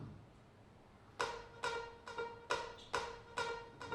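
A rhythmic synth pulse, gated by an Infected Mushroom Gatekeeper plugin, chops on and off in even, clipped bursts, each hit cutting off abruptly, with no voices.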